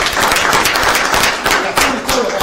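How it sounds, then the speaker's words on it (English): People at a city council meeting give a round of applause, loud and close, with distinct individual claps in a small room and some talking mixed in. "Give him a round of applause."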